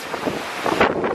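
A strong storm wind gusts by the sea on Åland, buffeting the microphone with a loud, rumbling roar that swells toward the end, with no talk over it.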